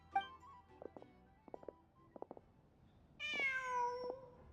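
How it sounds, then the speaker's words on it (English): A cat in the Genshin Impact video game gives a short meow, a few soft chirping sounds, then a longer drawn-out mew near the end, all fairly quiet and clear. "Just a cat."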